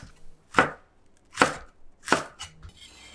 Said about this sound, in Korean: 대파를 흰 부분과 초록 부분으로 나누어 다질게요.